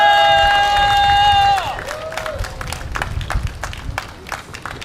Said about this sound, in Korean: 대표님을 모실 때 다들 큰 박수로 맞으시기 바랍니다.